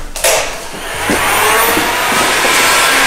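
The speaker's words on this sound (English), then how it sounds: "Let's grab our heat gun." A heat gun blows onto paint protection film on a vehicle bonnet, with a brief clunk and then a loud, steady airy roar that continues to the end.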